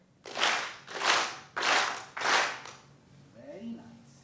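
Audience in an auditorium clapping together in a steady rhythm, four loud broad bursts of claps about half a second apart, followed by quieter murmuring and a faint voice.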